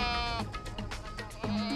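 A goat bleats in a veterinary clinic, a harmonic animal cry with a couple of rising and falling calls, close and fairly loud, over background room noise.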